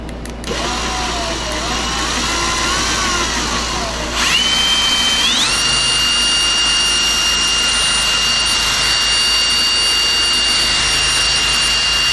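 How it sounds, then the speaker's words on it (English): An electric drill with its trigger locked on whines steadily and loudly, its pitch wavering then rising and settling into a constant high tone as it keeps running. "I am going to put my cruise control on my"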